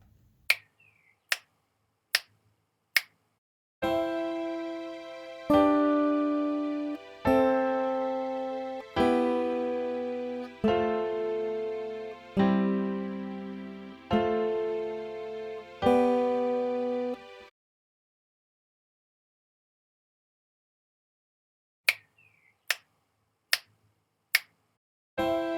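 A guitar plays a slow, well-known classical melody over a backing track, eight sustained plucked notes in an even rhythm. Sharp finger-snap-like clicks count in before the melody and come back after it.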